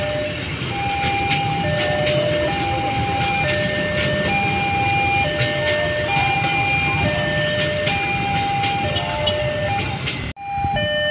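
The Jayakarta train rumbles loudly past level crossing JPL 111 while a crossing bell rings in steady alternating tones, ending with a sudden jolt of noise.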